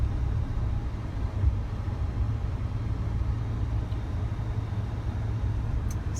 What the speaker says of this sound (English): I'm test driving a Toyota Tundra right now.